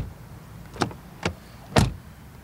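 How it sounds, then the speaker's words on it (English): Three car doors on a Mercedes GLE 350de plug-in hybrid SUV shut one after another, each a short solid thump, the last the heaviest, with quiet pauses in between and no talk. "doors closing sound, of course"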